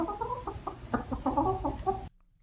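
A chicken clucks in a rapid run of short, rhythmic calls, close and clear, before cutting off abruptly.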